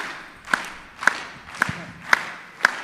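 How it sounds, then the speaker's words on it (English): Group of people clapping together in a steady rhythm, five sharp unison claps spaced about half a second apart during a percussion exercise at a healing arts panel, with faint room murmur between beats. "So clap with me."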